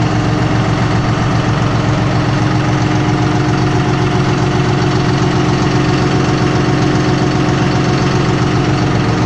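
A John Deere 5055E tractor engine idles steadily at full operating temperature, a continuous loud, even diesel rumble with a faint knocking texture and no voices.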